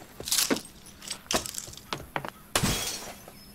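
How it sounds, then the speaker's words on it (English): Junk being smashed in a junkyard in the game Life Is Strange: Before the Storm: several loud close crashes of breaking glass and cracking debris come in quick bursts, with a larger shattering impact near the end. "Sorry, Mom, I'm smashing stuff in a junkyard."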